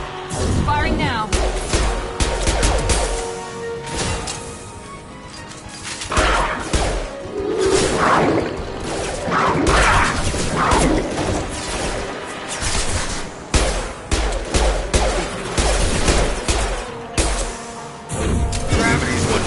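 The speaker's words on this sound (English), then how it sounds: "Firing now." Weapons firing during combat in Mass Effect 2, Legendary Edition on PS4 Pro: bursts of gunfire and sharp impacts recur through the stretch, mixed with whooshing effects and a voice speaking over the action.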